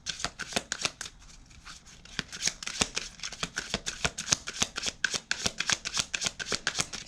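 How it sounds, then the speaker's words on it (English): Tarot cards being shuffled during a chakra reading, giving a steady run of crisp, rapid riffling flicks at close range, with a short softer pause near the start and no talking. "let's get some clarifying cards with this."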